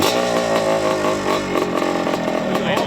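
A 1978 Honda CR250 Elsinore two-stroke motorcycle engine runs loud and close, a raspy buzzing idle with slight rises and falls in revs, steady throughout.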